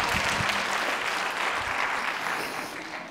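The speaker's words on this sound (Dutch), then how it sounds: "En geef haar een groot applaus." Children and adults applaud to welcome Professor Monique at a children's university lecture in Tilburg, a dense, even burst of clapping from a hall audience that carries on steadily and fades slightly at the end.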